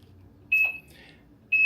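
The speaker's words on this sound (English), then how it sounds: "You'll hear that start beeping 20 times." Two evenly spaced electronic beeps about a second apart from a home alarm system arming, clear high-pitched tones over a faint low hum.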